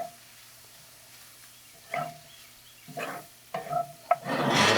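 Shrimp Creole dip cooking in a very hot pan, with intermittent sizzling bursts and stirring scrapes that grow into a louder crackling sizzle at the end.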